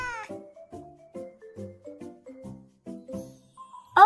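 A cat meowing sound effect, a series of short tonal meows in a steady rhythm, close and clear.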